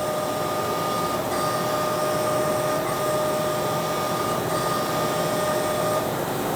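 A CNC mill spindle runs steadily in a knifemaking shop, giving a continuous whining machine hum with steady tonal overtones and even loudness throughout, with no voices.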